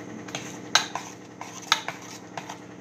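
A spoon stirs rava dhokla batter in one direction in a bowl, giving soft scraping with two sharp clinks of metal against the bowl, close and fairly quiet, with no talking.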